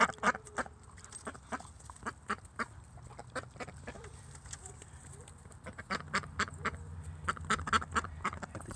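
A white duck in a pen quacks repeatedly in short, sharp bursts, fairly close and moderately loud, with bursts clustered at the start and again near the end and brief quieter gaps between.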